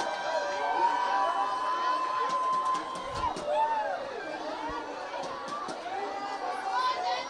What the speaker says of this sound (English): And the crowd is storming the field for Progress.